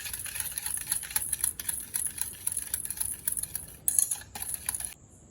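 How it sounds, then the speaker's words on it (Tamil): Vanilla essence stirred into eggless vanilla cake batter for a no-oven cake, a spoon clinking and scraping steadily against the bowl in quick uneven strokes, close and fairly soft, with no talking. "நல்லா கலக்கி விட்டுப்போம்."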